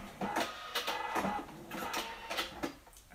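A Cricut Maker cutting felt gives off a steady run of mechanical whirs and clicks as the carriage moves, close and fairly quiet, with no one talking.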